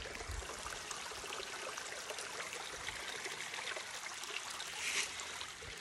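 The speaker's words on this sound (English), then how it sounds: "That beautiful little stream of water." A small stream of water trickles and babbles outdoors, a faint, steady, continuous wash with no voices over it.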